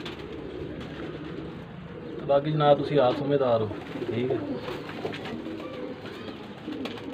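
Pigeons being sold at a market in Faisalabad cooing nearby, a soft low throaty burble that swells for about a second midway, with someone talking over it throughout.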